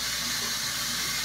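Water runs steadily while shampoo is rinsed out of hair, making a soft, continuous hiss and splash with no voices.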